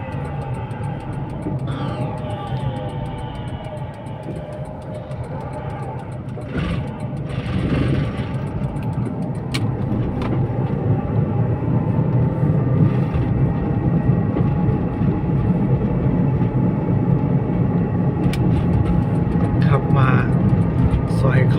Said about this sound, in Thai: เสียงอาจจะดังไปนิดนึงนะครับ รถเก่า เป็นรถเกียร์ธรรมดาด้วยครับ